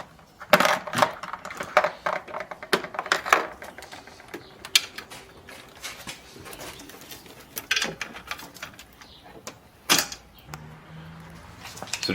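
Metallic clicks and ratcheting taps of a wrench working a bolt on the air intake of a Volvo S60, in sharp irregular bursts up close, with quieter gaps between.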